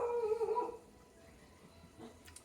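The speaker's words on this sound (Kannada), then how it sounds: "ನಾಯಿ ಸೌಂಡ್" A dog lets out a short, wavering howl near a home, fairly faint and fading within a second, then only quiet room noise remains.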